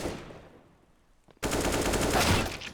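Automatic gunfire from a full magazine emptied in the video game CS:GO: a sudden loud, continuous burst of rapid shots cutting in after a quieter fading tail, firing steadily to the end.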